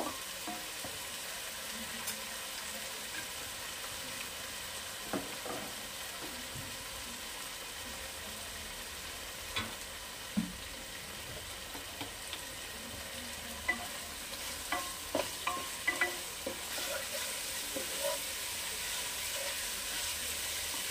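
Capsicum masala with tomato sauce sizzles gently in a pan over low flame while a spoon stirs it, giving scattered scrapes and taps that grow busier toward the end over a continuous quiet frying hiss.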